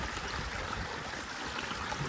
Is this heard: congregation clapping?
no